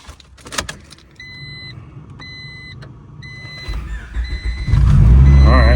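A JDM turbo Honda Civic starts up: repeated two-tone warning chimes sound over a quiet cabin, then the engine catches and settles into a loud, close, steady low rumble.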